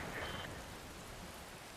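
Steady, dense rain falls in the video game Metal Gear Rising: Revengeance, a constant broadband wash with a faint tonal blip near the start and no voices.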